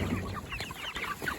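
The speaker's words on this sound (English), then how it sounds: "put the feeders in here for our meat birds" Meat chickens cluck steadily around their feeders, a busy, continuous cluster of short calls at close range with no talking.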